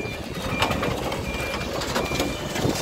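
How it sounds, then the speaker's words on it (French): Truck reversing, a faint repeating beep riding over a steady rumble of engine and road noise, heard at some distance without voices. "C'est le camion qui recule."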